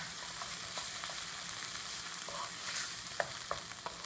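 Tomato and coriander sauté for a moong dal tarka, a soft steady sizzle with a few light stirring clicks toward the end.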